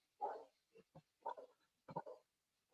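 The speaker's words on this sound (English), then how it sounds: "Can you guys hear my dog barking?" A dog barks indoors during an online meeting, several short separate barks spaced irregularly over a few seconds, faint and fairly distant.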